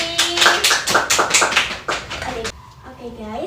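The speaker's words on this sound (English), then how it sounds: "Give applause to group B." A classroom of students claps for a student group in a steady burst of sharp, close hand claps lasting about two and a half seconds, then fading into quieter talk and room sound.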